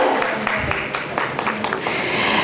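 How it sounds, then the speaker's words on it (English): An audience at an education conference claps to welcome a school group CEO onto the stage. The dense, steady applause fills the whole stretch, with voices mixed in. "Huge round of applause for him."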